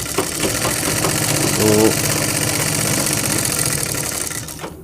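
A sewing machine runs steadily while stitching a blouse, a continuous whirring mechanical hum with a fast stitching rhythm throughout, and a voice speaks briefly over it.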